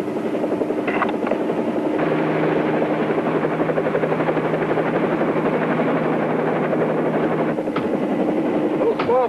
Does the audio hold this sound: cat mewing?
no